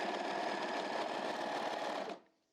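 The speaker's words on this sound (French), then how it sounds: "je vais tout coudre en continu" A home sewing machine runs steadily for about two seconds, stitching garment pieces such as neckband and cuffs in one continuous chain, loud and close, then stops abruptly.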